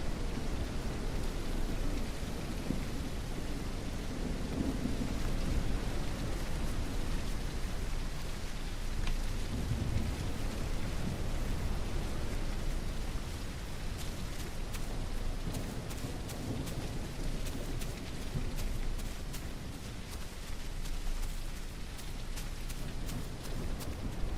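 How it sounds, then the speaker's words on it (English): A heavy thunderstorm with steady loud rain and deep, rolling thunder swelling through the low end, continuous and close without any voices. "The friggin' thunder is so loud."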